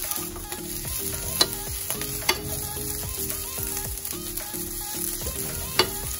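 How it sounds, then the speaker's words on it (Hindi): Maggi manchurian cooking on high flame while being stirred constantly, a steady close sizzle with rhythmic spatula scrapes against the pan and occasional sharp clinks, no voices. "इसे अच्छे से पकाएंगे 2-3 मिनट्स के लिए हाई फ्लेम पे और मिक्स करते रहेंगे ताकि थोड़ा जले ना।"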